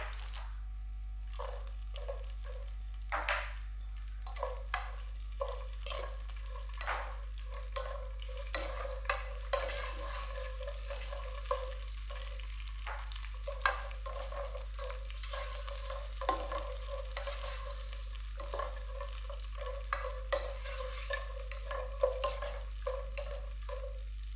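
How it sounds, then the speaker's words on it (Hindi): Almonds and pistachios fry lightly in a pan, a soft sizzle under repeated light clacks and scrapes of stirring, with a low steady hum running throughout and no speech. "इसमें अपने बादाम, पिस्ते विस्ते सारा कुछ डाल देंगे इसके अंदर। इनको हल्का सा फ्राई कर लेंगे।"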